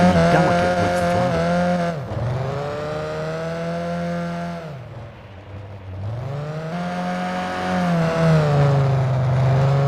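Race car drifting on snow in the Gran Turismo PSP video game, a loud engine revving up and down in long swells with squealing tires, dipping briefly mid-slide before climbing again.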